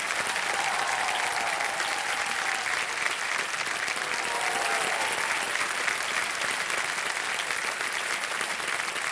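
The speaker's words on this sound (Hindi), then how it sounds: "ताली बजते रहे इनके लिए।" Steady studio audience applause fills a TV quiz show set for the full length, loud and continuous with dense clapping and no talk over it.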